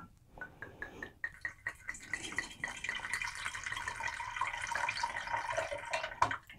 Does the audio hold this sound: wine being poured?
yes